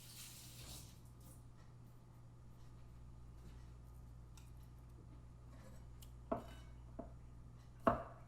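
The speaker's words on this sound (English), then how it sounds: "Cut off the head part of the garlic. And proceed to cut it into little slices." A knife slicing garlic into thin pieces on a cutting board: a few sparse, sharp taps near the end over a quiet kitchen hum, faint and close.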